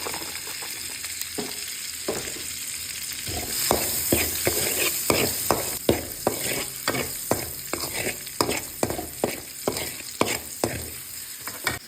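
Garlic frying in a pan while being stirred, a steady sizzle broken by a repeated rhythm of sharp scraping strokes, close and fairly loud.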